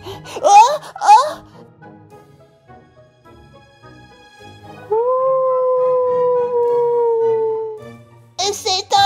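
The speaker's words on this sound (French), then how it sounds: "Et c'est un loup?" A long, wavering wolf howl from a children's toy story rises and holds steady for about three seconds after gasping, frightened voices, with more voices returning at the end.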